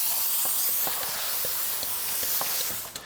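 An IK pump sprayer foamer spraying car cleaning product during a rinseless wash, a continuous close hiss of spray with faint scattered ticks and small knocks.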